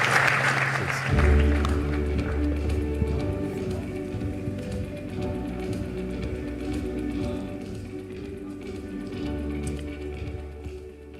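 Audience applause fills a business conference hall, a dense, steady clatter of many hands lasting throughout, with sustained musical tones playing underneath.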